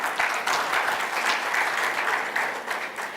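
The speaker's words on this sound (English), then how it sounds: "That also deserves a round of applause." A large audience at an investment forum claps steadily and densely for several seconds, a continuous roomful of applause with no pauses.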